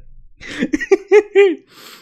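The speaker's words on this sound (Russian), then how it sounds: "если я начинаю смеяться очень сильно, я начинаю кашлять" A person bursts into a few harsh coughs right after laughing hard, a short close-up fit of coughing and throat sounds ending in a breathy exhale.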